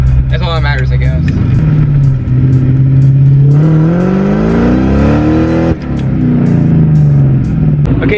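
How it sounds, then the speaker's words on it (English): Ford Mustang GT V8 with stock mid pipe and aftermarket-style muffler, revved up close and loud, the exhaust note climbing and falling in a few distinct surges while a voice talks over it. "I'm going to rev mine a few times first"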